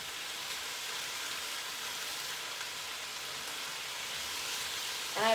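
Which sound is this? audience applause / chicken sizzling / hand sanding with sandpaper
chicken sizzling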